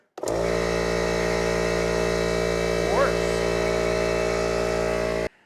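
A 1.5 horsepower air compressor running off a portable battery power station, with its tank at about 135 psi, drones loud and steady from close by with a strong hum, then cuts off abruptly.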